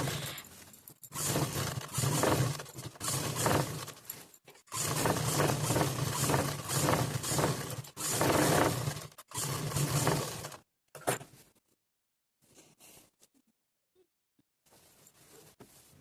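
An electric sewing machine stitches a second seam on a cross-cut saree petticoat, its motor whirring loudly in long close bursts with short pauses, then trailing off into near silence.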